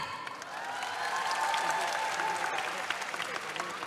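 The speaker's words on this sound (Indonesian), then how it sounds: "Boleh tepuk tangannya?" A crowd at a public event breaks into sustained applause that swells within the first second and holds steady, with scattered cheers and voices mixed into the clapping.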